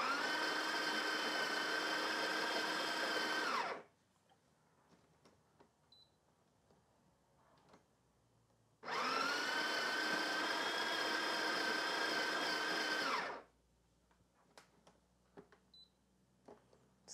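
A Breville Barista Touch Impress espresso machine whirs and grinds loudly in two sustained bursts of about four seconds each as it adjusts for a double filter, with quiet clicks and small handling noises between them.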